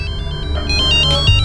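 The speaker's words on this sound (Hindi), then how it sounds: "लगता है उनका फोन होगा।" A phone ringtone plays loudly and close, a bright repeating melodic pattern of electronic tones over a busy low background.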